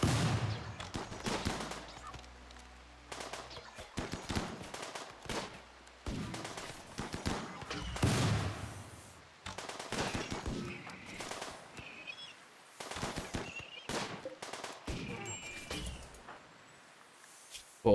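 Gunfire in a Warhammer 40k video game: dense, repeated bursts of shots and impacts crackle through the scene, with continuous battle noise and layered effects throughout.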